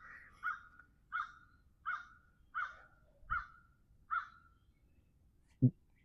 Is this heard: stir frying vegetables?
no